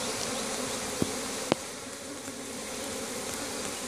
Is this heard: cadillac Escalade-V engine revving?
no